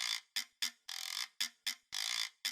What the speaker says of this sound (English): So I grabbed a couple of guiro samples and then I made a little thing and it sounds like this.